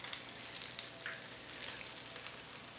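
Apple beignets sizzle and crackle steadily in hot oil in a pan, a continuous close frying hiss with faint pops and no voices.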